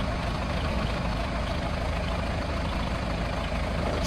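An old John Deere 3020 tractor idles steadily nearby, a continuous low, even engine hum with no break or change in pitch.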